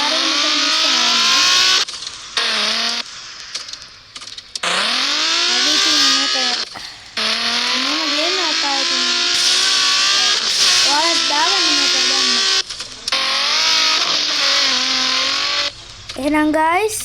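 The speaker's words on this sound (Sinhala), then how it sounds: "අපි අයිස් කරලා දැන් මේ කාර් එක මෙතන දිස්සනවා" A car in an off-road winter 4x4 video game slides across ice, its steady engine drone and tire noise running continuously beneath someone talking, with brief dropouts between stretches.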